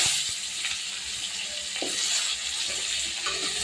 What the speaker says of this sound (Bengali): আলু কপি একটু ভেজে নেব